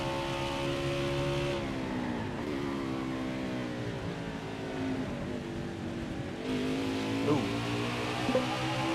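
Race car engine in NASCAR Heat 5 lapping the Charlotte Roval: a steady, droning roar rising and falling with gear changes and throttle, with a brief squeal and a couple of bumps near the end, no voices.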